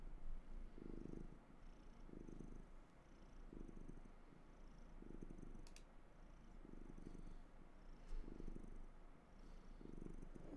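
A domestic cat purrs softly and close, its rhythmic rumble rising and falling with each breath, with faint keyboard clicks now and then.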